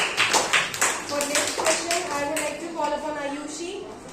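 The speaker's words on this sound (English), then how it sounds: "Clapping for Kritika and Ravneet." Students in a classroom clap in a short burst of separate hand claps, with children's voices and chatter mixing in as the claps fade.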